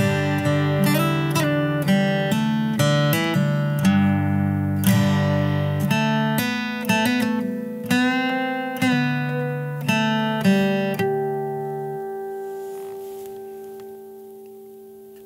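Plucked guitar notes and small chord shapes in a steady phrase, clean and close, ending on a long ringing note that fades out.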